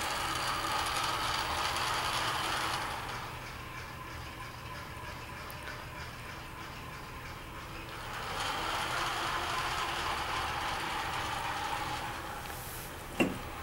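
An indoor patrol robot's motor and transmission gears run steadily with a continuous whirring, ratcheting grind that swells and eases in long stretches, ending with a brief sharp click.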